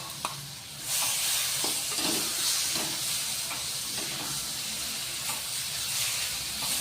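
Ridge gourd with a freshly ground paste fries and is stirred in a pan, a continuous close sizzling hiss with soft scraping knocks recurring throughout at moderate loudness.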